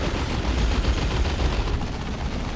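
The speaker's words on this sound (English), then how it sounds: "Oh, big old zap gun shot." A big zap gun shot from the Warhammer 40,000 Dawn of War 2 strategy game fires amid a continuous, dense roar of battle noise. Steady, crackling energy weapon fire and explosions blend into one loud wash with no clear pauses.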